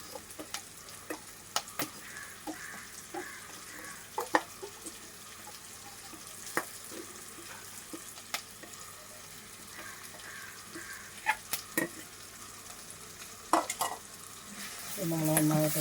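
Ground masala paste for fish curry being stirred in a pan: intermittent scraping and clacks of a spoon over a faint, low sizzle, fairly quiet with no talking.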